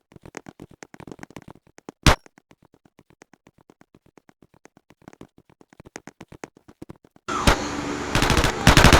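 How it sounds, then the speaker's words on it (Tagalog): Rapid gunfire in a Squid Game-themed video game, a fast run of sharp shots with one louder crack, then a dense noisy burst near the end. "Hoy, teka, bakit ka ba nang babaril?"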